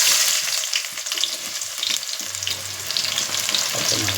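Onions frying in hot ghee and oil, a steady close crackling sizzle with occasional stirring scrapes and a low hum joining partway through, no voices.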